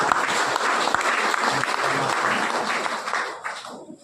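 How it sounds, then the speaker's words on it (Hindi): A morning gathering's audience breaks into dense, loud applause that holds steady before thinning and fading near the end. "जोरदार तालियां"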